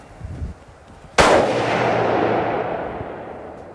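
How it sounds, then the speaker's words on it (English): A rifle fires a single loud shot at an outdoor shooting range: a sharp crack after a quiet moment, followed by a long rolling echo that slowly fades. "Let's go do some shooting."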